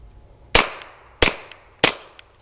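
Three suppressed gunshots sound through an aluminum suppressor, evenly spaced sharp cracks, each with a short decaying tail, close and loud with no talking.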